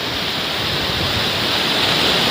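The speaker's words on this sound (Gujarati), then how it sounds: "આ ધોધ તો પછી ચાલુ જ રહીએ ઘણા દિવસો સુધી" A waterfall swollen by heavy rain and a full river pours steadily, a dense, continuous roar of rushing water close by with no pauses or voices.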